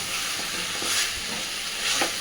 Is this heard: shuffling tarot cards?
no